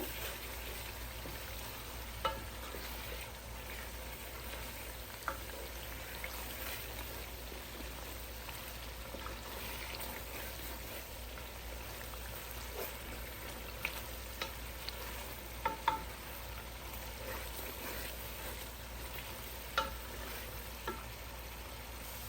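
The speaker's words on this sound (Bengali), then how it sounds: "এই যে মশলাটা কষানো হয়ে গেছে তেলটা উপরে চলে আসছে" Spice paste cooks down in oil for a home-style Eid beef curry, giving a faint, continuous sizzle with light bubbling and occasional sharp spatula scrapes and taps over a low steady hum, with no talking.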